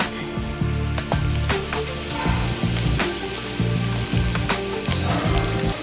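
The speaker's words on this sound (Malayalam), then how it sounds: "അതും കൂടിയും ചേർത്ത് നമുക്ക് ഫ്രൈ ചെയ്തെടുക്കാം" Payyoli-style chicken pieces fry in hot oil with a steady crackling sizzle, close and continuous, while a tonal musical pattern runs underneath.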